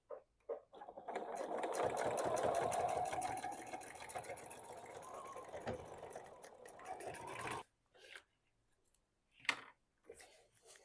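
Sewing machine stitching binding onto a vinyl pouch, a quiet rapid whirring run for about seven seconds, then stopping, followed by a few faint clicks and handling noises.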